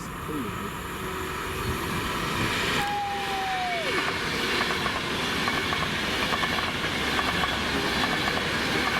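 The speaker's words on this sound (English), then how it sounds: "1M09, the 1245 Avanti West Coast service to London Euston from Glasgow" An Avanti West Coast Class 390 Pendolino, unit 390-008, running through Stafford station on a Glasgow Central to London Euston service, a loud continuous rushing roar with rail rumble and a brief falling tone, fairly close throughout.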